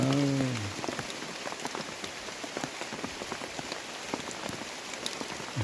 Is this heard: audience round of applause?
no